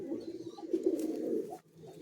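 Madrasi pigeons coo softly nearby in a low, continuous burble with a short dip near the end.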